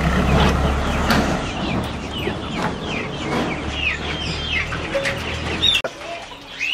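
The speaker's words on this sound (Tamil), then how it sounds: "இதில் கொஞ்சம் கோழி குஞ்சுங்க தனியாக இருக்குது" Chickens and chicks on a farm, steady clucking and repeated high chick peeps close by, with a low hum underneath and a brief thump near the end.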